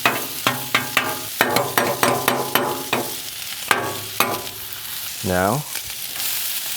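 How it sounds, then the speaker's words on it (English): Garlic hitting hot oil on the rice side of a home teppanyaki-style griddle, with a series of sharp scraping taps from a spatula over steady sizzling and a short squeaky rub near the end; one brief spoken word at the start. "Throw that garlic on. Let it cook in that oil just a couple seconds."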